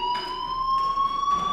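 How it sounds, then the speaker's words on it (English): A fire alarm rings inside the video game Life Is Strange, a steady electronic tone holding several pitches with pulsing bursts, loud and continuous throughout with no talking. "Hey, do you hear that fire alarm?"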